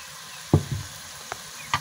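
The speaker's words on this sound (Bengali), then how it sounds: "এখন আমি ধুয়ে রাখা পালং শাক মশলা কষাতে" Washed spinach dropped into spiced oil in a pan with mayamash fish, a faint sizzle broken by a few sharp clatters and thuds of a spoon, close and brief.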